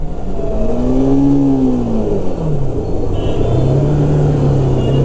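A motorcycle engine winds down as the bike slows after the rider eases the clutch gently, with a close, loud engine hum whose pitch drops steadily before it settles into a lower, even note.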